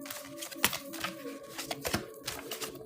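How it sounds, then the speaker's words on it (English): A deck of cards being shuffled on a table, with quick irregular riffling snaps and taps, moderately close and with no talk over it. "I'm going to shuffle really good."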